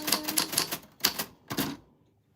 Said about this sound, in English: your name fell on the typewriter bell, and that's how it works